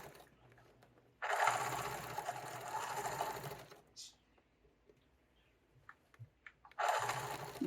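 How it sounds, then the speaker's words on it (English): A sewing machine edge-stitches a mitered blanket in two steady close bursts of rapid stitching, separated by a pause with small clicks and handling noises as the needle is set down to turn. "Just put your needle down, turn, and keep on edge stitching."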